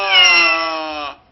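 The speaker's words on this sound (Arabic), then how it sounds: "صوت القطة" A single cat gives one loud, clear, drawn-out meow up close, rising slightly and then cut off, with nothing else heard around it.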